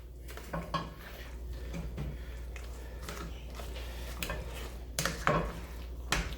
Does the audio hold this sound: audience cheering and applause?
no